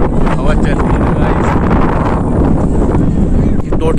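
Strong, steady wind roars at a river bridge above the water, loud and continuous across the microphone with no letup.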